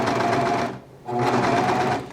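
A Bernette B48 overlock serger stitches and trims fabric with a loud, steady mechanical whir. The motor stops briefly partway through and then starts again at full speed.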